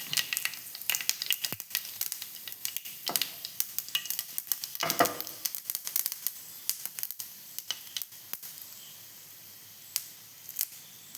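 Two dry red chillies crackle and spit in hot coconut oil, a steady stream of sharp sizzling pops with occasional louder bursts, close up and without speech.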